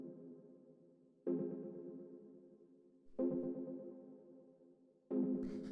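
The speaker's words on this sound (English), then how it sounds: "The next thing we have here is the second chord stab," Techno chord stab built from a square wave through a bandpass filter, struck three times with a hollow, resonant tone and a slowly fading echoing tail after each hit, played alone.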